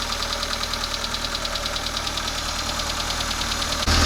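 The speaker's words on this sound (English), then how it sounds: "let it run, let it idle until it reaches operating temperature" A Proton Wira car engine idles steadily after repair, its rhythmic ticking knock repeating evenly at close range and loud, with a brief change in tone right at the end.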